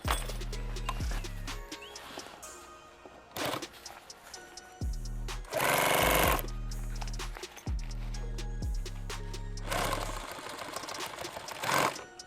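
Sewing machine stitching a helmet bag in rapid mechanical bursts with stops and restarts, close and fairly quiet, broken by a few louder rustling handling noises.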